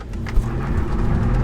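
A Ford F-250 pickup truck's engine roars loudly and steadily with deep rumbling as it accelerates hard from a standstill, 0 to 60; no voices.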